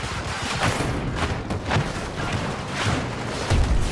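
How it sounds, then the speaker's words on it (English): Repeated explosive booms and thuds from a burst launcher in the shooter game Battlefield 2042, firing in quick succession amid a dense, noisy battlefield with continuous gunfire and blasts. "That burst launcher doing some work."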